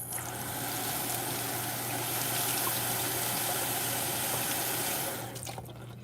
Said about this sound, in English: So just wetting our magic eraser.